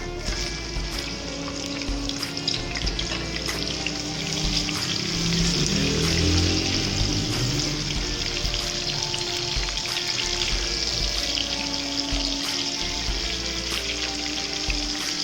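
Onions sizzle in half a bowl of hot oil with a teaspoon of cumin for green chilli keema, a dense, steady frying hiss with occasional bubbling, close and even, no talking.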